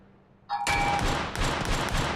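A bot in a shooter video game fires a sudden, sustained burst of rapid, repetitive gunfire after a short quiet moment, loud and dense throughout.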